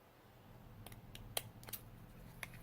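Scissors cutting a small paper flag for a card: a few crisp, separate snips close by, fairly quiet against a low background hum, with no voices.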